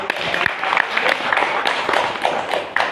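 An audience at a Bhagavad Gita group gathering applauds loudly, a dense, uneven burst of many hands clapping nearby with sharp individual claps standing out.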